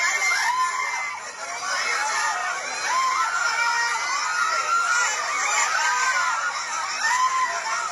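A large outdoor crowd at a Sara Duterte political rally in Cebu cheers and shouts continuously, with high voices and screams rising in waves over a dense, loud roar that barely dips.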